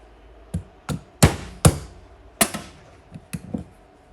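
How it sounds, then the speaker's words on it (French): A hammer raps an impact screwdriver on the float bowl of a Vespa GTS 125 carburetor, about eight sharp, close metallic knocks in an uneven rhythm with short pauses, no talking. "un petit coup de marteau"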